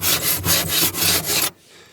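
Rhythmic scraping of stubborn frost on the inside of a car window, several close, rasping back-and-forth strokes that stop abruptly, leaving near silence.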